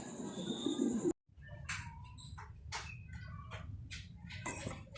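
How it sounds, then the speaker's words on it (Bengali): Pigeons at a pigeon farm selling Mundiya birds coo softly and repeatedly nearby, with short chirpy calls scattered between the coos after a sharp break near the start. "তো এইখানে একটা কবুতর দেখতে পাচ্ছেন"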